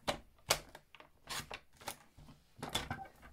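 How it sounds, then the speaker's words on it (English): A paper trimmer slices through cardstock for a handmade fold card, giving a series of short sharp scraping cuts and taps at close range with no talking. "So this time I'm going to do it with a trimmer"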